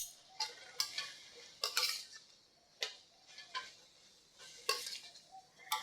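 Spring roll (lumpia) filling with sweet soy sauce, salt and sugar is stirred in a pan; a spatula gives irregular sharp clicks and scrapes, close and fairly quiet, with no voices.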